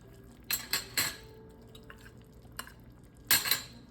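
Shredded rotisserie chicken stirred into a pot of chicken tortilla black bean soup makes several bright clinks of a metal utensil against the pot, close and moderately loud, in short clusters with pauses.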